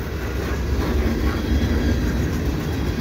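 A winter CN double-stack freight train rumbles steadily past on the tracks at Dorval, a continuous low roar with faint rattling, close and loud throughout, no voices.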